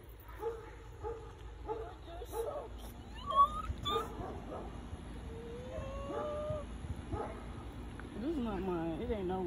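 A puppy yips and barks in short, scattered bursts indoors, fairly faint, while people talk over it throughout.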